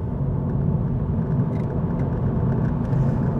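2022 electric MINI Cooper SE pulling away hard from a standstill, a steady low road rumble and tire roar inside the cabin with a faint motor whir, no engine note.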